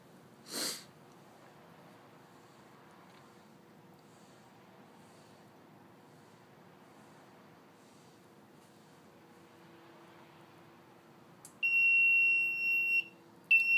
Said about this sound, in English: In about 16 seconds, we'll hear a little alarm.